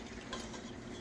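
A spoon stirs food in a pot for pork chops in Thousand Island sauce, a steady soft scraping and swishing with faint sizzle, close and continuous for a brief moment.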